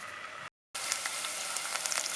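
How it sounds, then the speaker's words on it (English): Vegetables frying in a pan for a risotto tomato sauce, a steady crackling sizzle heard close, broken by a brief silence near the start, with no voices. "It starts frying."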